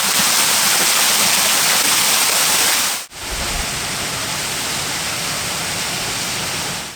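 Dripping Well, a small seasonal waterfall in the High Weald woodland of East Sussex, gives a steady broadband rush of falling water, close and continuous, with a brief dip partway through.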